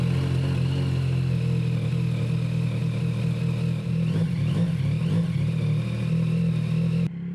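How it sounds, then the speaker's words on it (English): A 2023 Yamaha XSR900 motorcycle with an SC Project exhaust starts cold, then holds a loud, steady, throaty idle close by with a slight blip before settling, no voices. "let me give you guys a cold start, see how this exhaust sounds."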